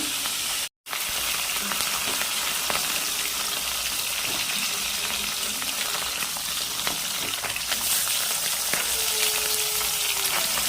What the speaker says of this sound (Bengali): বন্ধুরা এক পিট মাছ ভাজা হয়ে গেছে